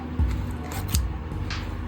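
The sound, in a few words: scissors cutting crochet yarn tail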